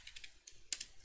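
Quiet, scattered keystrokes on a computer keyboard, a handful of light clicks at an uneven pace, with no talking.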